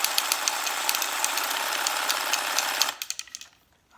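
A sawzall reciprocating saw shakes a paint can with a loud, dense buzzing rattle that runs steadily, then stops abruptly into a few fading knocks and quiet.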